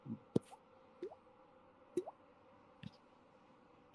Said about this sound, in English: you hear the sounds of like water just dripping